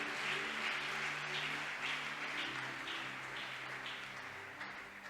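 A church congregation applauds during a French-language service, with sustained, dense clapping at moderate distance that carries on evenly throughout and eases slightly toward the end.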